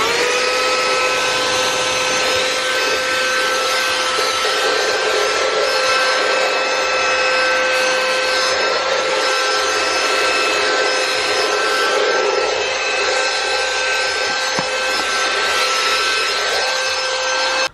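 A 70mai Swift cordless handheld vacuum cleaner runs steadily with a constant motor whine and a bright tonal hum over a broad airy rush. It is loud and close, with no speech for the whole stretch.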